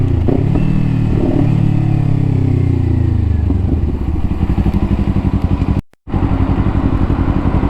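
A Kawasaki Ninja 500 motorcycle is ridden at speed, its engine droning loud and close with a steady rising note, wind and road rush around it, and a brief dropout near the end before the engine sound returns.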